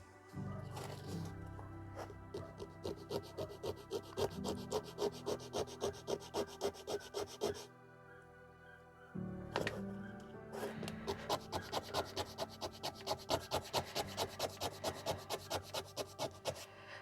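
Rhythmic back-and-forth rubbing of sandpaper on a small wooden dollhouse dresser piece, steady strokes with a brief pause midway, close up.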